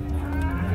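Cows at a livestock market lowing in a sustained, low, droning moo that fills the short clip, with steady background noise and no talk.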